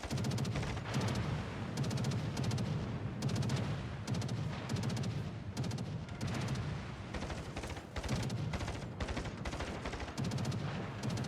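Naval guns in a World of Warships-style battle with Japanese carrier play fire in repeated heavy volleys at a target, booming bursts rolling one after another at a steady loud level with no talk.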